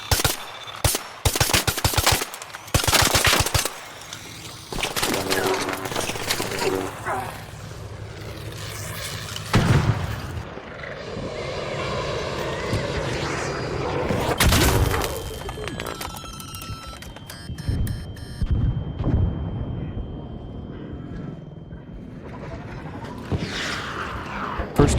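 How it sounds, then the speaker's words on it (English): Gunfire and explosions in the video game Ark: rapid machine-gun bursts, single shots and heavy booms, some close and some distant, with mechanical whirring between them. "You hear noises, gunshots, explosions, or even just Ark noises a lot and from very far."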